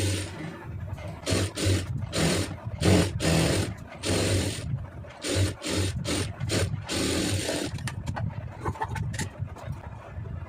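A sewing machine stitches blouse lining fabric in short, uneven bursts of whirring motor and needle chatter, pausing between runs and running slower and softer toward the end.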